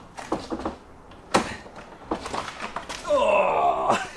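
An abandoned old BMW E36 door is pulled open for the first time in seven years. A few dull knocks and clunks lead into a loud, drawn-out creaking groan near the end.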